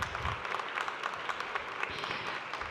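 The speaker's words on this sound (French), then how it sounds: "Mesdames et messieurs, un tonnerre d'applaudissements pour Shams et Jaouni." Steady applause from a conference audience welcoming two speakers to a retail-week round-table panel in Paris, dense clapping that stays even throughout with no voices above it.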